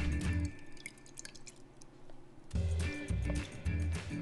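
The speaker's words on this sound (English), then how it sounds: "Step one, fill the glass with about 2/3 of water." Water poured from a container into a glass at home, a steady liquid trickle with drip-like splashes that stops briefly midway and then resumes more heavily, close and fairly quiet.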